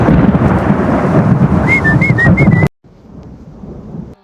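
A rumbling thunderstorm roll of thunder over steady rain, loud and close, with a brief whistling tone riding on top before it cuts to a quieter stretch of rain.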